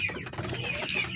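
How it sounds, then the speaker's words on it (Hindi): A Plymouth heritage rooster, a pure heritage bird with yellow legs, gives a short burst of low clucking close by, heard alone for about a second. "देखें जी, प्योर हेरिटेज क्वालिटी के अंदर ये मुर्गा है माशाल्लाह।"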